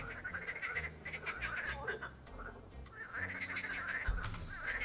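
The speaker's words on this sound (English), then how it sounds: "My god, these frogs!" Frogs croak in a dense, continuous chorus beside a lake in an Unreal Engine game, loud and close with no speech heard.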